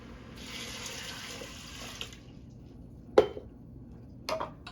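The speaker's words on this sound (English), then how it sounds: "it's time to add our 2 cups of dried black-eyed peas and 5 cups of water" Tap water runs steadily into a pot holding dried black-eyed peas for two seconds, then stops, followed by a couple of sharp clanks of the pot or lid.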